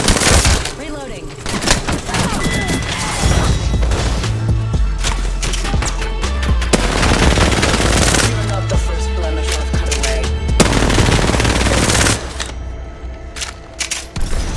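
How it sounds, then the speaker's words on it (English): Heavy gunfire in the battle-royale shooter Apex Legends: dense rapid shots, cracks and booms pile up almost continuously for the whole stretch, loud and close, with game sounds layered throughout. "The enemies are shooting at me."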